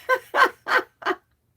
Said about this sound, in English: Canadian brown chicken.